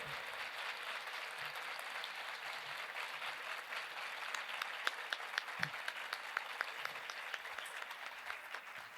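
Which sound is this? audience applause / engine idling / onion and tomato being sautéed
audience applause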